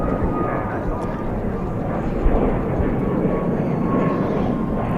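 An Aeromexico airliner at DFW airport, its steady engine roar loud and continuous from fairly close, with people talking over it.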